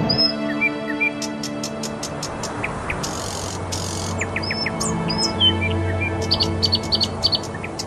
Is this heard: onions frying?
no